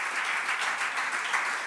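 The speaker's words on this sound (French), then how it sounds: "J'aimerais ça qu'on les applaudit." A short burst of audience applause for the hosts and staff at a comedy podcast taping, an even, moderately loud patter of clapping with no speech.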